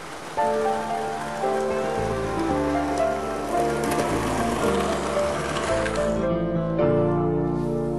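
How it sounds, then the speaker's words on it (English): Heavy rain patters steadily against carriage windows and a cab roof under sustained musical tones, with the downpour continuing evenly throughout. "the rain lashed at the carriage windows and thundered down on the roof of the cab"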